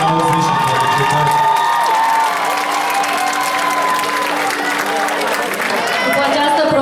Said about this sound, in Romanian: Aplauze și felicitări.